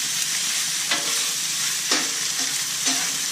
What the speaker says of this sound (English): Now we just stir this around a little bit and let it